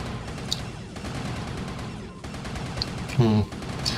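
Corsairs and scouts firing on stargates in StarCraft Remastered, rapid faint weapon fire crackling steadily beneath a commentator's voice, with a brief louder burst near the end.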